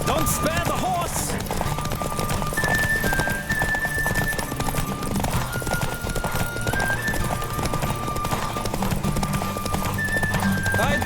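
A horse gallops in a race in The Witcher 3: Wild Hunt, with continuous fast hoofbeats and neighs amid game music, and voices speaking over the action.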